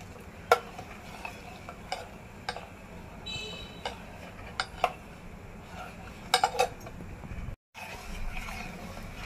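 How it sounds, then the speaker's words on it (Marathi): A spoon clinks sharply against a pot now and then while traditional Konkan yogurt kadhi is stirred, faint scraping between the taps, no voices. "आणि ही कढी सतत ढवळत राहा"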